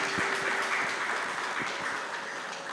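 Audience applause at a special televised school event, a dense, even roar of clapping from many people at moderate level, with a few sharper individual claps poking through.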